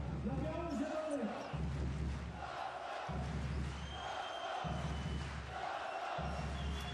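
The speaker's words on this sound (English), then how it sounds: "the crowd doing all they possibly can here to get their side over the line" A basketball arena crowd roars and cheers during the closing minute of the fourth quarter of a Champions League game, a dense sustained din with rhythmic chanting surges and a commentator talking over it.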